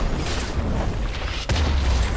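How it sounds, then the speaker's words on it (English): A turret is destroyed in League of Legends with a single deep boom about one and a half seconds in, which leaves a low rumble sustained beneath continuous game noise. "Blue team's turret has been destroyed."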